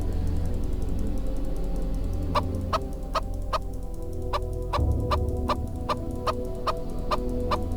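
Chickens in the video game Arx Fatalis, repeated clucks arriving in quick regular bursts over a steady low background hum, close and clear with no talking.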